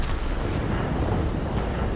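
A tank cannon fires in the World of Tanks video game, a heavy, continuous low boom and rumble that fills the whole two seconds at a steady, loud level with no pauses.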